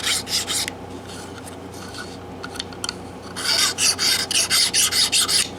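File working the saddle slot of a 1940s Gibson J-45 acoustic guitar, loud close rasping strokes in quick rhythmic bursts, a few at the start, a pause, then a longer run of steady swipes.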